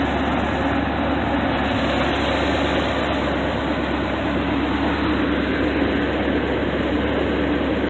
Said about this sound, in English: the engine sounds great too